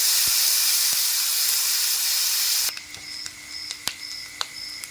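Onion paste frying in a pan for a Bengali doi katla curry, a steady close hiss of sizzling for a few seconds that then drops to a quieter crackle with scattered light pops.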